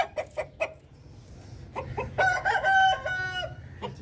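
A home-farm rooster lets out a loud, close crow that rises and stretches over about a second, framed by several short clucks before and after, with no talk over it.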